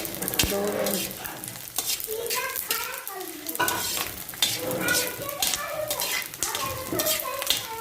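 Ingredients for panjeeri fry in a little oil, making a continuous close sizzle with frequent stirring scrapes and clinks of a utensil against the pan, while someone talks over it.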